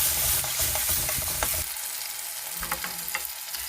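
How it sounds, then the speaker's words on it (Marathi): Ginger garlic paste sizzles and is stirred in a hot pan while cooking misal, with steady frying hiss, scraping spoon strokes and clinks at close range, the sizzle easing slightly partway through. "आता त्यात आलं लसूण पेस्ट 2 चमचे घालते आणि आलं लसूण पेस्ट पण चांगली परतून घ्यायची."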